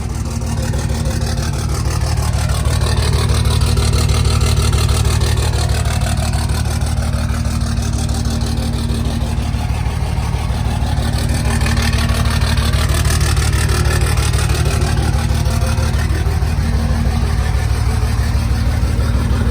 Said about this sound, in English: It's a big truck, bad sounding truck as well.